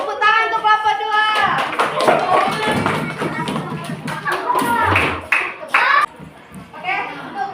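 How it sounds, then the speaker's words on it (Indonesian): Fourth-grade pupils in an elementary school classroom clap for a group of classmates, with loose, uneven taps and patters, while children's voices and chatter run alongside. "tepuk tangan untuk kelompok 2"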